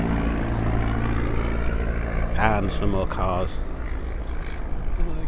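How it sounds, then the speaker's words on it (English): A steady low engine drone of a propeller aeroplane passing overhead during an outdoor car meet, heard continuously under a brief spoken remark. "Ooh, an aeroplane."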